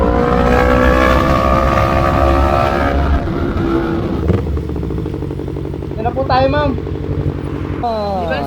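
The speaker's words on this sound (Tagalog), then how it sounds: "grabe naman tong motor mo" A big bike motorcycle carries a rider and passenger over a bumpy road, its engine rumbling loud and close with clattering jolts, while voices talk over it toward the end.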